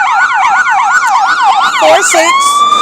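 An emergency vehicle siren wails loud and close, cycling rapidly up and down in a fast yelp before settling into a steadier high tone near the end.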